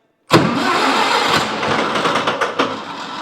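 An old Lindsay air compressor engine cranks and catches abruptly after a moment of silence, then runs rough and loud on its own with uneven chugging pulses close by.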